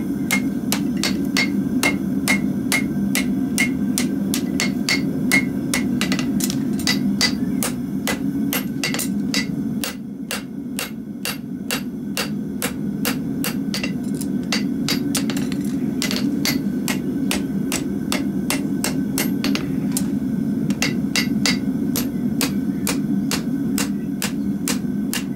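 Hot iron is hammered on an anvil to forge-weld onion irons, a fast, steady run of sharp metallic blows, close and loud over a constant low roar from the forge, with one brief pause partway through.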